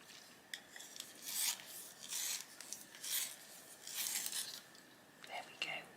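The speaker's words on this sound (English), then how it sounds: "Let's give it a sharpen." Sky blue colouring pencil being sharpened, a soft irregular rasping of wood and pigment in several short bursts, fairly close but quiet.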